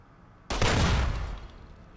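A 9mm gun fires in Fallout: New Vegas, an abrupt loud blast that lingers as a dense burst of rapid shots before fading over about a second.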